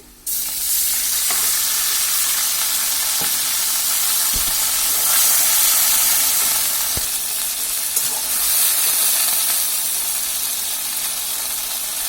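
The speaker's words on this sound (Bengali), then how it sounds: "এখন এর মধ্যে কিছু পরিমাণ পানি দিয়ে দেব, অল্প করে।" Onions frying for a turnip and chicken-skin curry hiss into a loud, steady sizzle as a little water goes into the hot pan, with a few sharp knocks of a spoon against the pot, close and without talk.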